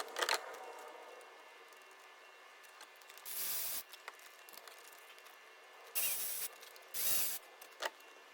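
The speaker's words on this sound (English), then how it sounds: "And all I've done now is just put the bolts in, just finger tight, and then just run them up, just gently." Bolts being run up gently by hand tool on a Ford Transit 2.2 TDCi fuel pump, giving a few short bursts of ratcheting whirr separated by quiet pauses, close up with no talk.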